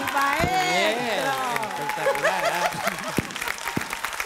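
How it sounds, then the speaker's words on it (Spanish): A class at a talent school applauds as the teacher leaves. The clapping runs beneath excited, overlapping voices and cheering, with a few distinct louder claps standing out as it thins. "Un aplauso, se retira."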